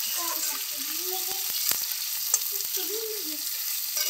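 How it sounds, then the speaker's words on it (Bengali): Boiled potatoes frying in oil in a home kitchen pan, a continuous close hiss of sizzling with a few sharp clicks and taps of a utensil, no talking. "আলু দেখো যে সেদ্ধ হয়ে গেছে, একদম ভাজা হয়ে এমন ভাজা হয়েছে।"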